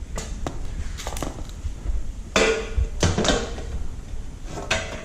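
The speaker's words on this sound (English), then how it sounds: "We're gonna create the other head that goes on here with our ball peen hammer" Several sharp metallic taps of a ball peen hammer peening a rivet on a toolbox, landing irregularly, a few louder strikes among lighter ones, close by with some clattering in between.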